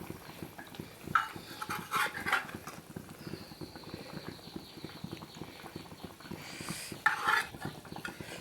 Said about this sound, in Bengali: বলক এসে গেছে, এখন দিয়ে দেব হচ্ছে মাছ।